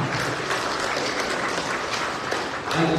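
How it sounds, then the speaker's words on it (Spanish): Crowd clapping at an outdoor football tournament opening ceremony in Los Angeles, a busy, somewhat noisy patter of hands with a brief louder swell toward the end. "Y el aplauso."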